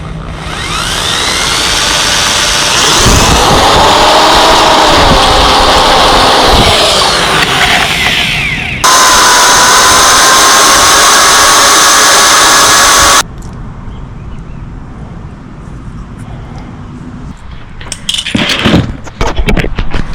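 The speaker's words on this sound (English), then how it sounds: "Now the next bit is to drill a hole." A power drill bores a hole for a DIY kayak rod holder and GoPro mount, a loud steady whine for several seconds that shifts pitch, followed by a high buzzing tone, then quieter handling noises.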